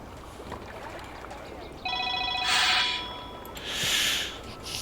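A phone rings in a room, a short electronic ring tone with steady tonal bursts, followed by a couple of brief noisy swells over quiet background hiss.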